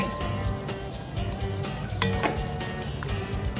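Sausages frying in a pan over medium-low heat, with a dense, continuous sizzle and crackle and occasional clinks and scrapes of a utensil, close and fairly loud.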